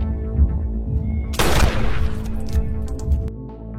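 A shotgun fires in a nightclub scene from an action film: one loud, sharp blast with a decaying rumble, set against a steady musical background.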